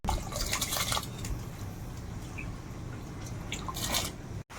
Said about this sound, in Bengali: জলটা আগে এই পাশে ঝরিয়ে নিই